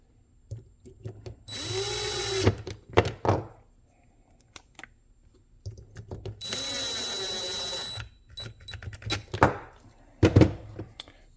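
Power drill driving small T9 screws into the housing of a Shark Hydrovac vacuum during reassembly: two sustained whirring bursts of about a second and a half each, close and loud, separated by clicks and handling knocks.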